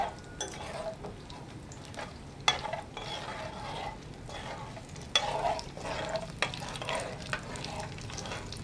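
Cumin, mustard seeds and dry red chillies crackle in hot oil for a tempering, a soft steady sizzle with sharp pops near 2.5 and 5 seconds, fairly faint, with stirring and utensil clinks.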